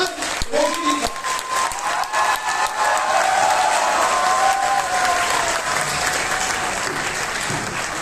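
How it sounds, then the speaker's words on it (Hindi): Auditorium audience at a live comedy show claps loudly and cheers to welcome a performer on stage, a dense, sustained roar of applause with crowd noise and a few voices mixed in. "मैं चाहता हूं पूरा ऑडिटोरियम हमारे स्टार का एक बार हाथ उठा करके तालियां बजाकर स्वागत करिए।"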